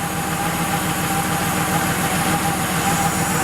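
A Porsche 3.2 Carrera engine idles steadily and evenly, a continuous low rumble with a fine regular pulse and no stumbles, close and unbroken throughout.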